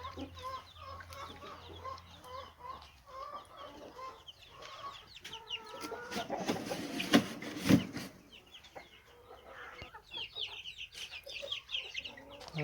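Newly hatched chicks and chickens cluck and peep in a busy chorus, with a louder burst of fowl calls midway over faint background noise; no talking.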